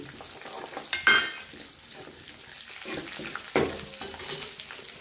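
Garlic, cumin and mustard seeds sizzle in hot oil with a low frying hiss, broken by a couple of louder bursts as the spices hit the pan and are stirred.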